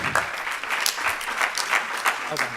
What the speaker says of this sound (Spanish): Vamos dando un aplauso para ellos